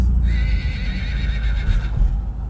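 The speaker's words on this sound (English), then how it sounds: "Look at them horses." A horse whinnies in a long, high, wavering call over steady low rumbling and faint hoof clatter outdoors.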